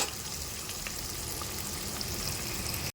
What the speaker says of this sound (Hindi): ये देखें प्याज को हमारे को अच्छे से सॉफ्ट करके ब्राउन कर लेनी है।